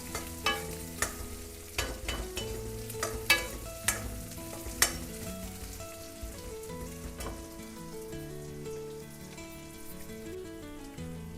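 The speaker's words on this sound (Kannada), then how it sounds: "ಇವಾಗ ನಾನು ಈ ಶುಂಠಿ ಬೆಳ್ಳುಳ್ಳಿ ಮತ್ತು ಮೆಣಸಿನ್ಕಾಯಿ ಆವಾಗಲೇ ತೋರಿಸಿದ್ನಲ್ಲ ಇಂಗ್ರೀಡಿಯೆಂಟ್ಸಲ್ಲಿ, ಅದನ್ನು ಹಾಕ್ಕೊಳ್ತಾ ಇದ್ದೀನಿ" Ginger, garlic and green chilli frying with onions for masala puri, stirred with a spoon that lands in sharp, irregular metallic knocks and scrapes over a continuous crackling sizzle, close and loud, with no speech.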